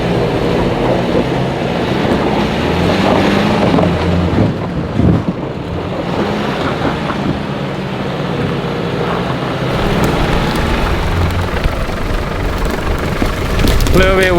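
Strong beach wind near Forster and Seal Rocks buffets loudly and continuously, a heavy rushing roar with gusty rumbles, while a voice talks underneath.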